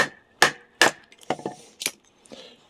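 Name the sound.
mallet striking a knife blade to split wood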